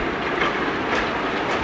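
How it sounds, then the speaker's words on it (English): A Bay Colony freight train led by two locomotives rolls along the rails near Needham Upper Falls, a steady loud rumbling roar with faint wheel clatter, continuous and fairly close, with no voices. "Here you see Bay Colony 1061 and 1064 bringing the train to Needham Upper Falls."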